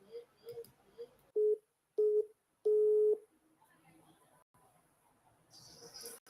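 Telephone tones while calling a caller back: several short beeps, then a longer steady tone, followed by quiet line noise and faint murmuring.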